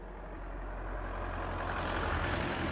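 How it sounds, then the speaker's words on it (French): A vehicle passing on a street, a low engine rumble that swells gradually and steadily over a few seconds, heard from nearby with no talking. "J'attends que la voiture elle passe."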